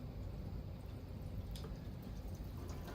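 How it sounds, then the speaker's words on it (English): Water poured into the tank of a large humidifier, a soft steady splashing and trickling with a few brighter drips, close by and without talk. "So to fill it up, you can just pour it right in here"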